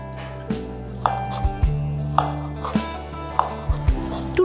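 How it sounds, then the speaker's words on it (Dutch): A knife cuts Swiss chard stems into cubes on a cutting board, producing separate, fairly sharp chops spaced irregularly, close up, with no voices. "De stelen van de snijbiet snij ik in blokjes en het blad in repen."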